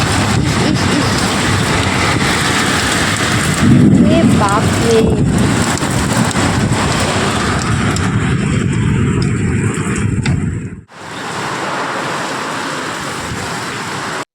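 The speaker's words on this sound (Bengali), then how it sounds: "প্রচণ্ড বৃষ্টি এবার দিয়ে দিয়েছে শুরু হয়ে গেছে দেখো" Heavy rain pours down steadily in a storm with hail and thunder, a loud dense roar that cuts out abruptly near the end before resuming. A person exclaims briefly over the noise.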